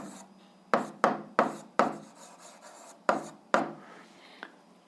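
Pen strokes scratch across paper while an 8th-grade algebra solution is written out, a series of short, fairly close rasping bursts with pauses between them and no talk.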